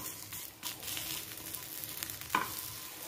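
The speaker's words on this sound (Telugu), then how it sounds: "జస్ట్ ఒకసారి ఫ్లిప్ చేసుకొని మళ్ళీ ఇట్ సైడ్ కూడా కొంచెం కాల్చుకుంటే అయిపోతుంది" A rice flour dosa crackles softly on a hot pan after being flipped, with a steady low frying hiss and a brief scrape or tap near the end. The sound is close but fairly faint, with no talking.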